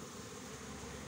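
Honey bees, many of them young, buzz in a steady, faint drone, a continuous hum of many insects close by with no other sounds.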